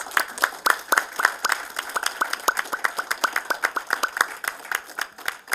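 A small group of people claps together during a live stream, close and fairly loud, with a brisk uneven rhythm of distinct hand claps lasting several seconds.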